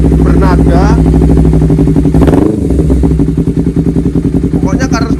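A Honda CBR250RR two-cylinder motorcycle fitted with an R9 exhaust revs loud and close, with a deep, rounded, throaty engine note. The revs swell, drop back briefly, and then settle into a rough, pulsing idle.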